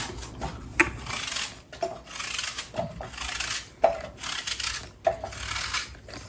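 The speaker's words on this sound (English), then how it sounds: "Now I'm going to peel my apples. Now I'm going to slice the apples" Apples being peeled and sliced for an apple pie: repeated scraping and rubbing strokes broken by sharp knife clicks against a board, close and moderately loud, with no talking.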